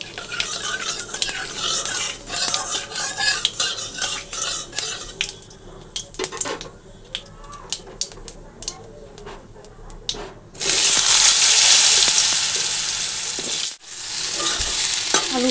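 Potatoes fry in a kadai with cumin seeds and bay leaf while being stirred: a steady sizzle and scraping of the spoon against the pan, with the hiss surging louder near the end. No one speaks.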